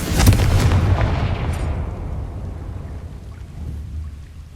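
A fire spell explodes in Hogwarts Legacy: a loud, close burst that dies away into a long rumbling tail, with no voices over it.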